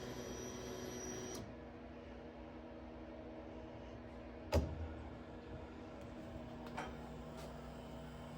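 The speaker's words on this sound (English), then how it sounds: "Wait for the fuel pump to kick off so we can hear it." Car fuel pump priming on a K-series supercar build, a faint steady electric whine that cuts off early, followed by a quiet hum, a sharp click and a couple of soft taps.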